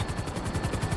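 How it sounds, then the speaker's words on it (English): Helicopter in Grand Theft Auto V, a steady, loud, close rotor drone with a rhythmic low chop repeating several times a second, filling the whole second with no voices. "You need to keep the aircraft off the ground."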